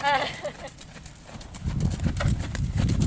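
A horse moves in a riding ring, its hooves clip-clopping in a quick, rhythmic patter that grows louder in the second half, heard close alongside people talking.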